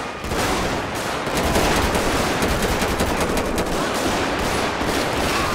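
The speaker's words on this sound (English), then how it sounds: "gunshot coming from everywhere" Dense, continuous gunfire from GTA 5 rattles loud and close, rapid automatic bursts layered into a nonstop barrage during a police patrol mission.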